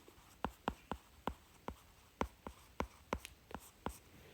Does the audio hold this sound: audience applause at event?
no